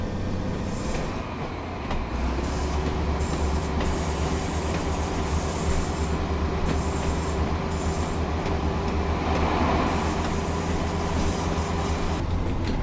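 A UK train in Train Sim World 4 rumbles along steadily with a constant engine drone and faint rhythmic rail noise, with no one talking throughout.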